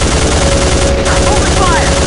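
Continuous loud machine gun fire in the PC shooter Soldier of Fortune II: Double Helix during an assault on a rebel encampment, a dense unbroken rattle of shots with a voice briefly shouting over it.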